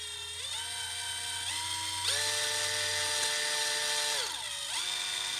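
A small high-pitched electric drill spinning a cotton swab to polish a Honda TRX400 carburetor part whines continuously, its pitch rising and dipping as it speeds up and slows down under load.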